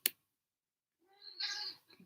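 A cat gives one short, quiet meow after a brief click and a second of silence.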